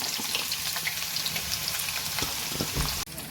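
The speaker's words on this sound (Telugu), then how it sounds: "ఇందులోనే ఇప్పుడు ఆనియన్స్ వేసుకుంటున్నాం" Chopped onions fry in hot oil with cloves and cinnamon for a Telugu lobster curry, making a dense crackling sizzle with scattered pops and a stir or clunk near the end, close and without speech.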